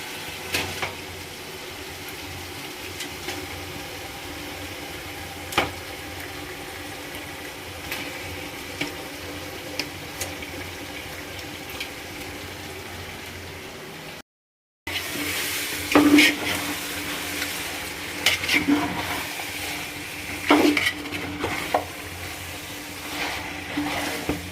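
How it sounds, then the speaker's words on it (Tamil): Chicken frying in a pot for homemade Bhai-style chicken biryani, a soft steady sizzle with occasional scrapes and clinks of stirring, brief cut partway through, then louder stirring and pot sounds. "கறியை போட்டுட்டு இன்னொரு தடவை நல்லா கிளறி விட்டுக்கிறங்க"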